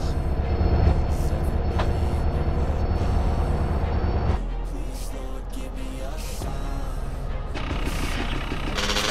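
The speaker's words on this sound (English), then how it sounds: "Follow that train!" A train rumbles past in Grand Theft Auto: San Andreas, a loud, steady low roar that drops abruptly to a lighter rolling clatter partway through, with game music or engine noise mixed in.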